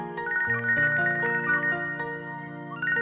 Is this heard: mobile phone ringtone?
yes